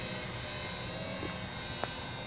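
A JJRC JJ1000 quadcopter drone flies with a continuous high-pitched buzz from its spinning rotors, steady and fairly close, without speech.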